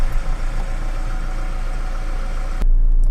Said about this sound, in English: obviously the engine's running